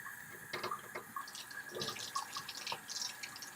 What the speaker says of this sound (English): I'm gonna turn a little bit of hot water.